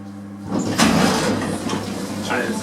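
Three-door Schindler hydraulic lift at exit level in Blackpool, its doors sliding open with a broad mechanical rumble and whoosh after a low hum, loud and close, while a voice talks over it.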